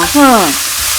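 Pork stir-frying in a wok with Chinese kale, a short burst of steady sizzling that briefly overlaps a fading voice.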